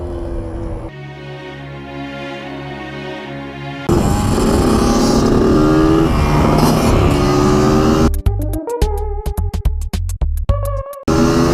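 A Suzuki RM dirt bike engine drones steadily while riding, then a louder, busier stretch of engine noise follows, ending in choppy, broken bursts of revving near the close.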